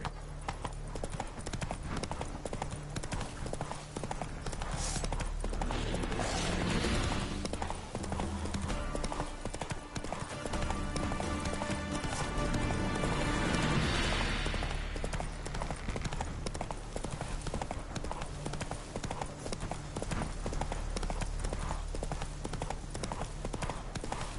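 Hooves of a galloping horse in The Witcher 3 video game keep up a steady, continuous clip-clop rhythm, loud and close, layered over game sound effects and ambience.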